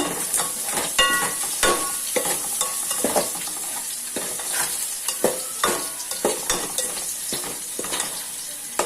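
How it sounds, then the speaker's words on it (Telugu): A fish curry spice mixture is stirred in a hot pan, with steady scraping strokes over a continuous close sizzle of frying and occasional light clinks of the utensil. "అల్లుప్పండి వన్ అండ్ హాఫ్ స్పూన్ మిశ్రమాన్ని అన్నంతా కలుపుకోవాలి"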